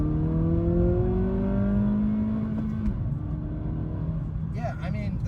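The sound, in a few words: Acura Integra A-Spec 6-speed manual accelerating in second gear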